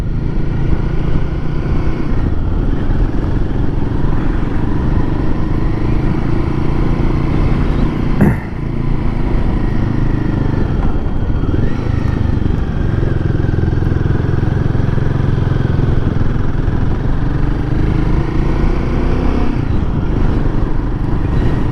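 A Royal Enfield Guerrilla 450 motorcycle rides steadily near a beach, its engine droning loud and constant with wind rush and a single brief clunk partway through.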